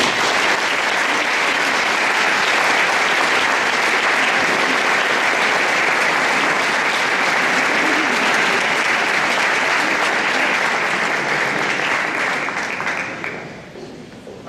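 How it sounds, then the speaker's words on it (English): A crowd at a fall sports awards ceremony gives sustained, dense applause for an award recipient, loud and continuous for about thirteen seconds before tapering off at the end. "Please give a round of applause to Luis Romero."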